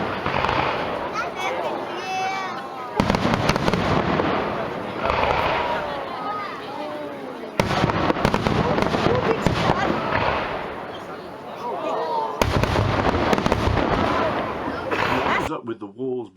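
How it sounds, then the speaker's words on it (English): A massive fireworks display at a Guy Fawkes night festival crackles and bangs in dense bursts, loud and sustained, with several abrupt cuts between scenes and whistling rockets streaking up. "And they have a massive firework display."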